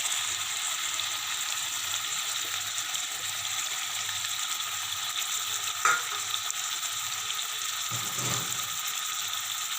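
Onion paste, made from onions browned in ghee, sizzles steadily in a pan for a mutton curry, a soft continuous crackle with a couple of brief clanks of utensils.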